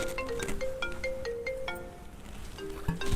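A mobile phone ringtone plays a short melody of stepped electronic tones, some held and some clipped, at moderate volume over faint background noise.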